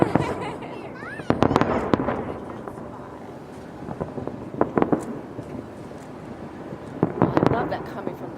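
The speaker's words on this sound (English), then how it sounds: "And then we walk down the street and watch the fireworks." Chinese New Year fireworks over New York City, several clusters of sharp booms and crackling bursts at a distance, with wind noise on the microphone and people talking in between.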